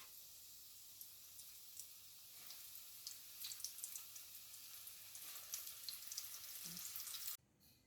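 Breaded chicken pieces fry in hot oil in a pan, giving a steady close sizzle and hiss with scattered pops and crackles throughout, ending abruptly.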